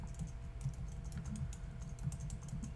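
Quick, light keystrokes clatter on a computer keyboard as symbols are entered, a steady run of soft clicks at close range with no voices.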